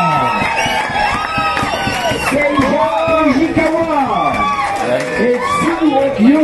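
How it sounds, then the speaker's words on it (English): Crowd at a motorcycle Trial des Nations medal ceremony cheering and whooping loudly, with shouts and voices calling out over a continuous din of noise. "je vous demande de l'applaudir"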